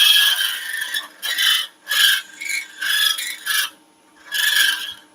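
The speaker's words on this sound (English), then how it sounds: "I can use the bottom of the scraper, this flat section of the scraper, to do that final bit" Short bursts of rasping scraping as the flat bottom of a scraper works wooden turned material at the bottom of a drilled hole while making a thimble, repeated in quick strokes with brief pauses between them, close and fairly loud, with no talking.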